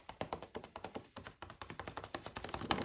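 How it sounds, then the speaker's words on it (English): A glitter-coated card is tapped repeatedly to shake off the excess glitter, giving a quick, steady run of soft close knocks with a brief pause in the middle. "Tap away the excess."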